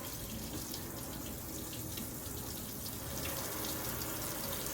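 A faucet at a surgical scrub sink runs in a steady, even hiss of flowing water, constant and fairly faint throughout with no voices.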